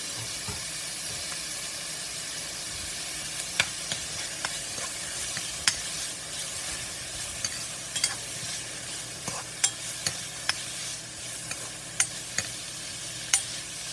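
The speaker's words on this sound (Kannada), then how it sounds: "ಹಾಗೆ ಇದ್ರೊಳಗೆ ಟೊಮಾಟೊ ಹಾಕ್ಕೊಂಡೀನಿ. ಹಾಕಿಬಿಟ್ಟು ಇದನ್ನ ಸ್ವಲ್ಪ ಫ್ರೈ ಮಾಡಿ" Tomatoes frying and being stirred in a pan: a steady, close hiss of oil throughout, with scattered light spatters and crackles popping above it.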